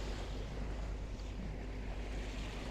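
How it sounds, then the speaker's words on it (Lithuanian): Calm sea waves washing past a cruising boat in Arctic waters, a steady broad rush of water mixed with wind buffeting the microphone, continuous and close. "Tos bangos taip hipnotizuoja, net atrodo, taip tylu,"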